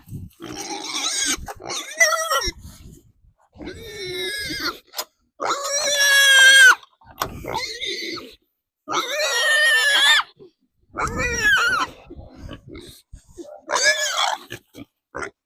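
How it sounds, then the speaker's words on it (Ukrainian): A small sow grunts and squeals repeatedly in short loud bursts close by, with brief pauses between calls. "О, я думала, це кабанчик, а це ця свинка менша така тяжка."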